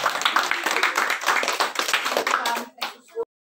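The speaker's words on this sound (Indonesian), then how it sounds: "tepuk tangan buat Allah" Hands clapping in a steady run of sharp, close claps during a word-guessing challenge game, with voices talking over them before it cuts off.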